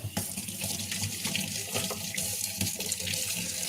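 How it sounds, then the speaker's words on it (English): Tap water running into a sink to wash blood off a cut hand, a loud, steady close gush with occasional splashy bursts as the hand moves under the stream. "we gotta wash this blood off."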